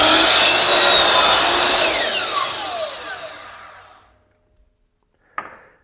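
Mitre saw making a straight cut through a wooden workpiece: a loud whining buzz as the blade bites and cuts, then the motor winding down to silence, followed by a short knock.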